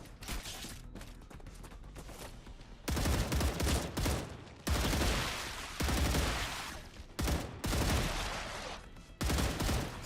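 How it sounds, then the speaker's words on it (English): Sniper fire in a bug-infested survival building game: several loud, sharp shot bursts with booming reports, spaced irregularly across the stretch, each with a quick decay between. "sniper shots"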